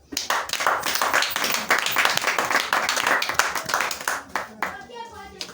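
A church congregation claps rapidly and loudly for several seconds, dense and steady before it tapers off, with voices mixed in.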